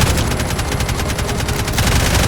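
Rapid, loud automatic gunfire from the video game Roblox Jailbreak, a dense continuous burst of shots filling the whole stretch with a slight pause near the end.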